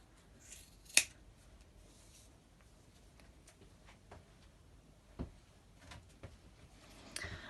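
Scissors snip through the ends of 3-strand macramé rope to form a fringe, giving a few sharp, separate cuts in a quiet room.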